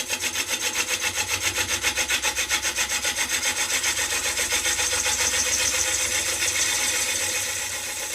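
A woodturning gouge takes a fine finishing cut on a spinning sycamore blank on a lathe, giving a steady rhythmic scraping hiss that pulses with each rotation, close and continuous throughout.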